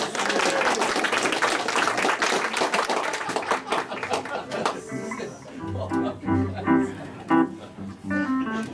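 Audience clapping at a live Western swing radio show in Nashville fills the first half, dense and steady, then fades as band music with sustained tones takes over.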